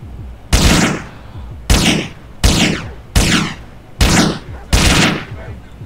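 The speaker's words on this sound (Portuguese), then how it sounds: "AK-47." Six loud, evenly spaced single gunshots from an AK-47 in the video game GTA IV, each a sharp blast trailing into a short echoing decay, heard alone.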